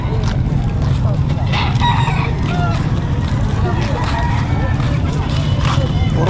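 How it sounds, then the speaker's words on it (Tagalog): Native chickens and fighting roosters at a livestock market in San Carlos City, Pangasinan, crowing and clucking amid a steady crowd babble, with people talking nearby. "Puro manok, ha?"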